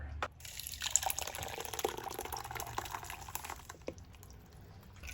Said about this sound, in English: we're going to go ahead and put it through a colander.